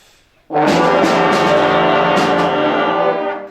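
A sixth-grade school band of wind instruments blasts a sustained, buzzy chord all at once after a short quiet lead-in, loud and ragged like beginners' first notes.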